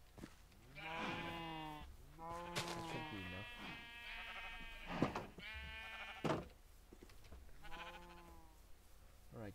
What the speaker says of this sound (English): Ah, yes, there it is. Another black sheep.